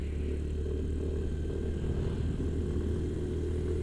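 A 110cc scooter engine drones steadily while climbing uphill, a close, continuous low hum with wind rush and no talk over it.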